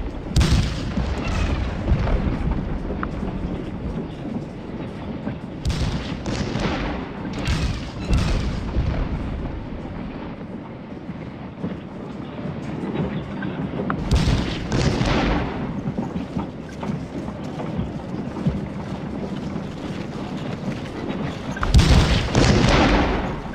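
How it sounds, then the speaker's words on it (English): Artillery guns fire shells in Scourge of War: Gettysburg, a Civil War battle game. Deep booms repeat at irregular intervals over a constant rumble of battle noise. "I concentrate 4 of my guns to keep them pinned with shell fire, with Caliph in support."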